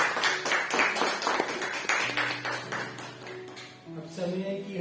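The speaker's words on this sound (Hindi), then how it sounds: "जोरदार तालियां" A church congregation at a Hindi-language service claps loudly and densely for about two seconds, then the clapping thins out beneath sustained tones that carry on to the end.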